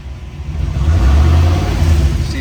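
A 1965 Sunbeam Tiger's engine revs up from idle and holds at higher RPM, a loud, steady low rumble close by with no talk over it.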